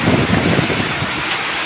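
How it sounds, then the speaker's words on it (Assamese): Heavy monsoon rainstorm in Morigaon, Assam, driven by strong wind: a dense, steady roar of rain and gusting air with low buffeting rumble, close and loud throughout, with no voices. "বতাহত একদম পূৰা বৰষুণবোৰ উৰি উৰি উৰি উৰি গৈ আছে।"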